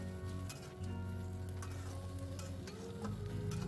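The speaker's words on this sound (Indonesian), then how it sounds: "Nah, ini kita aduk-aduk, kita masak sampai sayurnya ini matang ya." Vegetables in a pan with a little mushroom stock, stirred as they cook: a steady soft sizzle and bubbling with occasional scraping clinks of the utensil, close and even throughout.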